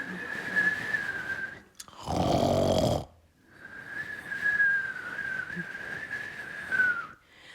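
Snoring during an afternoon nap: a steady, whistling tone that runs for several seconds, broken near the middle by a louder, rougher rasping burst, then resuming with gentle swells.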